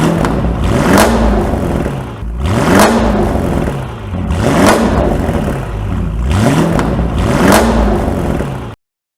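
An 820 hp Mansory and MTM tuned Audi RS6 with a 4-liter twin-turbo V8 accelerates hard in repeated loud bursts, engine pitch rising through several gear shifts with brief dips between pulls, then cutting off abruptly.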